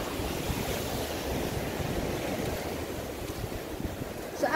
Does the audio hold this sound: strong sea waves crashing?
yes